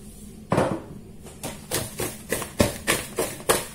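Spoon clinking against a bowl while eggplant is mixed with salt and pepper, a series of light taps and scrapes in an uneven rhythm, close and fairly loud.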